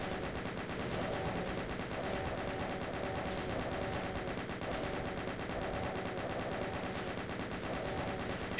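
Rapid sustained gunfire against barons of hell in DOOM, Knee Deep in the Dead, a steady loud chattering stream of shots running throughout with no pause, no talk over it.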